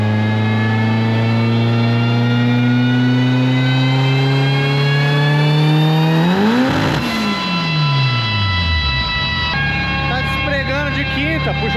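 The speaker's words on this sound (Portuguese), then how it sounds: "Puxou de quinta agora." A 600whp Gol G3 pulls hard in fifth gear, its close, loud engine pitch climbing steadily for several seconds, peaking, then dropping as revs fall, with whistling turbo tones and voices underneath.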